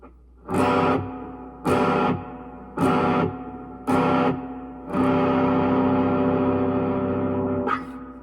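Five strummed guitar chords, the first four short and evenly spaced, the last left ringing for several seconds, with a distorted, effected tone.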